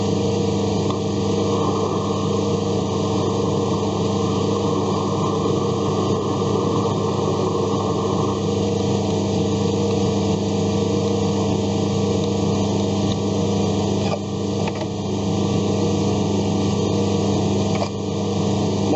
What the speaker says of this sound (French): Alors, on termine le perçage.